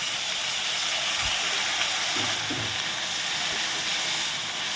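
Tomatoes dropped into hot oil for a paneer dish sizzle loudly in a continuous, even hiss close by, with a couple of soft low bumps and no voices.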